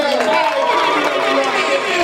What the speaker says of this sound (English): Alright, clap it up for yourselves.